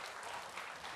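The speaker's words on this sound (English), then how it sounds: "So big round of applause." A brief burst of steady audience applause at a New Harvest 2022 conference session, a dense, even wash of many hands clapping at moderate volume with no voices over it.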